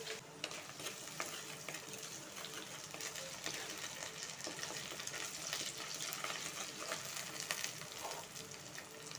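Onions sautéing in a pan for fish curry, a steady close sizzle and crackle with occasional stirring scrapes, fairly quiet and continuous throughout.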